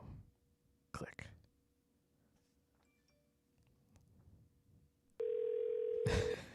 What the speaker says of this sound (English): We'll just call him back. Call Marco.